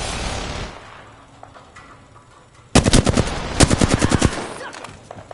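Video-game gunfire, sharp automatic bursts erupting midway after a quieter stretch, loud and close, repeating in rapid volleys with a few separate shots toward the end.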